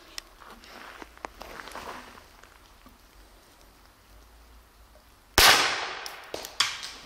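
A lung trainer air gun is fired at a shed wall about 40 meters away outdoors, a single sharp loud crack followed by a decaying rush and another smaller impact, over quiet rustling background.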